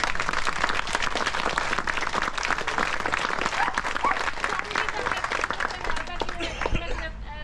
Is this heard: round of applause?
yes